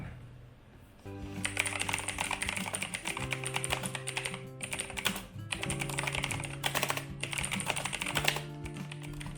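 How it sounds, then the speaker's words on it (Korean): Rapid clicking keystrokes on a mechanical keyboard, continuous typing with brief pauses, close and crisp over a faint background hum. "기계식 키보드를 칠 때의 소리와 느낌을 제일 좋아합니다"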